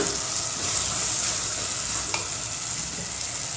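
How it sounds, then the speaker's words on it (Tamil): Onions and tomatoes sautéing in a pan make a brief, even sizzle, loud and close, with no voices. "வெங்காயம் வதங்கினதும் தக்காளி தக்காளி வதங்கிடுச்சு"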